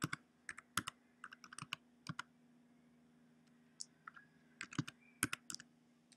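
Computer keyboard typing as a file name is entered, bursts of crisp plastic key clicks at an uneven pace with short pauses, close and quiet over a faint hum.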